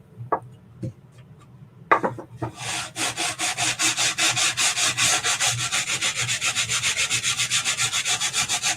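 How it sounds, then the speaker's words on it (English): Edges of a wooden sign being sanded by hand, a few light taps first, then a fast, even back-and-forth rasping rhythm of close, loud strokes continuing to the end. "When in doubt, sand the edges."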